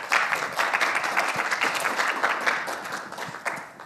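An audience at a tech talk claps steadily to welcome a speaker. The applause is dense and fairly loud, with many hands at once, and eases slightly toward the close.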